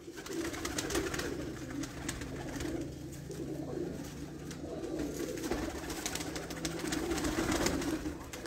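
Breeder pigeons cooing on a rooftop loft, a steady chorus of low, rolling coos continuing throughout with light background hiss and no talk.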